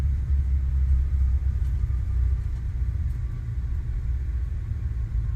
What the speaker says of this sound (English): In the decel, reverses are out.